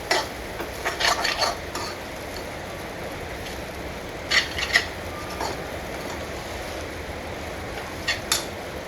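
Sabudana khichdi with salt being stirred in a pan for a fasting dish, a soft close scraping and clinking of a spoon in short bursts over a low steady background, with no voices.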